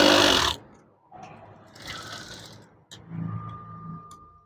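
A sewing machine stitches curtain fabric in a loud opening burst, then runs in quieter mechanical passes with a steady whirring hum and brief pauses between runs.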